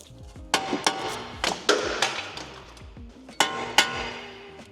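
Several sharp metallic hammer strikes on stuck bolts ring out at uneven intervals, close and loud, each followed by a brief clanging resonance.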